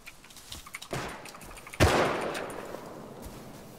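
Bolt-action rifle fire in the survival game Rust: a single loud, sharp shot with a lingering echoing tail, preceded by a few fainter, scattered pops and clicks in the distance.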